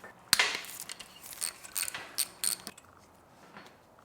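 A ratchet clicks in short bursts while loosening 10mm nuts on a 2007 Ford Mondeo Mk4 2L diesel engine. A sharp metallic knock is followed by quiet, close-up, uneven clicking that fades away.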